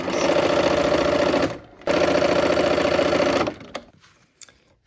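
A sewing machine stitches along a seam on a quilt block in two steady runs of mechanical whirring separated by a brief pause, then stops and leaves faint handling clicks.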